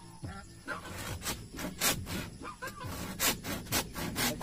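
A hand saw cuts through wood with repeated back-and-forth rasping strokes, close and fairly quiet, in an uneven rhythm.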